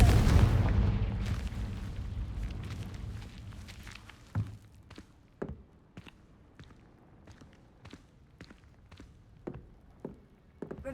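Confringo spell blast in the Hogwarts Legacy video game, one loud booming burst at the start that decays into a rumbling tail, followed by scattered sharp taps and cracks, with no talk.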